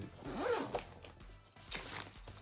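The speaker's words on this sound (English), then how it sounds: "Zip these up, wrap them up, we're done." A zipper on a gift bag is pulled closed in a few quick rasping strokes, close and fairly quiet, with no talking over it.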